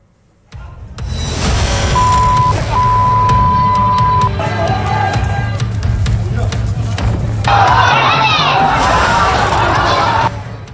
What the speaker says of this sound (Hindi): पुलिस पर पत्थर फेंक रही भीड़,